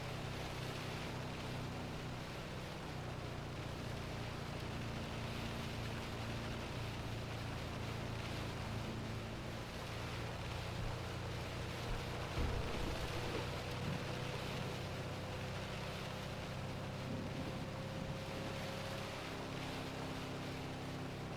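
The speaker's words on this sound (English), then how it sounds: "This is actually what the rain sounds like when it's hitting your windshield at a heavy rate." Heavy rain drums steadily on a car windshield in the storm-chasing game Outbrk, a dense continuous wash of hiss under a low engine hum, with a faint tone rising briefly midway.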